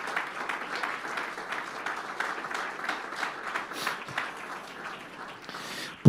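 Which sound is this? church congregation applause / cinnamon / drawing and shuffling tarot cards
church congregation applause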